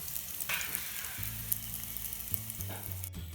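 Chicken katti kebab cooks in hot oil with a close, continuous sizzle over a low steady hum, broken by a few faint clicks.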